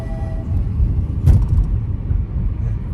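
A car driving on the road toward Portland gives off a steady low rumble of road and engine noise from inside, with one brief louder bump partway through.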